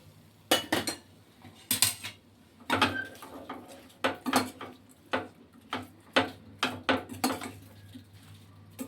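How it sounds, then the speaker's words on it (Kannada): A utensil stirs fried onions into mushrooms in a pan for mushroom gravy, giving a steady run of close metallic clinks and scrapes roughly every half second over a low background hum. "ಫ್ರೈ ಮಾಡಿದ್ದ ಈರುಳ್ಳಿನ ಮಶ್ರೂಮಲ್ಲಿ ಹಾಕಿ ಮಿಕ್ಸ್ ಮಾಡಬೇಕು"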